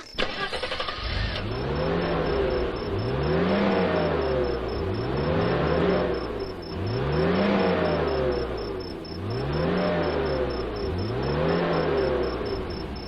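A car engine revs hard in repeated rising and falling surges, loud and close throughout, with no voices over it.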